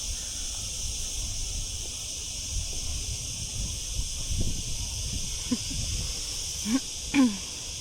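Cicadas sing in the summer heat in Spain, a steady, bright, droning buzz that fills the whole stretch without a break, with a few faint short noises near the end.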